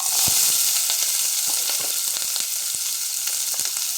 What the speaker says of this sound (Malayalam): ഇനി ഇതിലോട്ട് പച്ചമുളക് ഇടുന്നുണ്ട് പച്ചമുളകും അതേപോലെ നമ്മുടെ ഇഞ്ചിയും